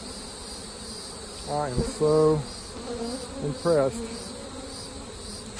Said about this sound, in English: Look at all these bees, guys